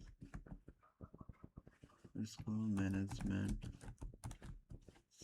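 Quick taps and clicks from a computer keyboard being typed on for a school management system demo project, close and rhythmic, running under a voice that keeps talking throughout.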